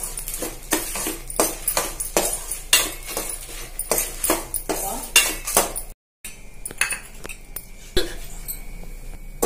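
Lentils, dried chillies, garlic, pepper, cumin and asafoetida dry-roast in a pan while a metal spoon stirs and scrapes repeatedly in steady, close clinking strokes, with a brief gap near the end.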